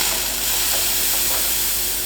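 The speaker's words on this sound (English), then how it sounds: "Nice strong steam." Steady, loud hiss from the steam wand of a freshly serviced La Pavoni Professional espresso machine, a continuous close-up jet of steam with no break or speech.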